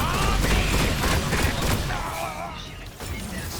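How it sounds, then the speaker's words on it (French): Pump-action shotgun fire in a video game, a dense burst of loud blasts and thuds with gameplay clatter running through the whole stretch, mixed with faint voices. "C'est un fusil à pompe, hein."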